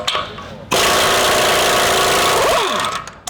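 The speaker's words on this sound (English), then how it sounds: "take your 36mm socket and remove this hub bearing nut here" A 36mm socket on a pneumatic impact wrench hammers loose the hub bearing nut of a 2019+ RAM 1500 during a lift install: one loud, continuous rattling burst of nearly three seconds that starts abruptly and fades out.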